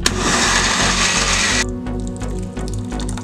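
A blender loudly grinds cooled, salted ingredients for a fake guacamole, a dense whirring roar that cuts off partway through, followed by quieter knocks and rattles.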